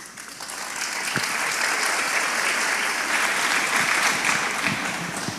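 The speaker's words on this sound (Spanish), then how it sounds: "Bien, aplauso." Applause rises from a church gathering after a question-and-answer exchange with a priest, swelling quickly into a full, even wash of clapping that holds steady throughout.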